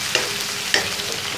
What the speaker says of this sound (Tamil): வெங்காயம் ஒரு பாதி அளவுக்கு வதங்கிடுச்சு